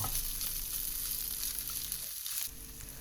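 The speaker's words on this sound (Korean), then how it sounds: "이제 프라이팬에 구워주시기만 하면 되는데요" A Korean potato pancake of grated potato and onion sizzles in a frying pan, a steady close crackle of hot oil with no voices.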